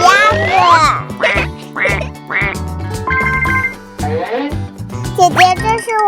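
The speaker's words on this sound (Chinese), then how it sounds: "那里有鸭子" Ducks at a farm park quack loudly and repeatedly in close, rapid bursts, a busy chorus of nasal calls filling the whole stretch.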